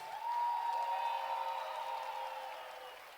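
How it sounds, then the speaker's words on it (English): A school pre-primary annual day audience gives a soft, sustained round of applause from a distance, swelling briefly and then fading out. "So please keep the round of applause, big parents."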